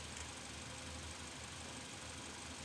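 A car engine idles during a transmission cooler flow test, a faint, steady, low rumble that holds continuous and even throughout with no talking.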